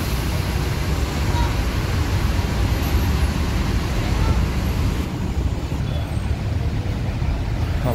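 Steady, dense roar of road traffic crawling in a jam, heard from a bus on a long route from Surabaya to Medan, a continuous low rumble with no breaks or distinct events.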